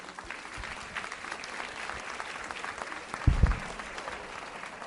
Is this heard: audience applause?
yes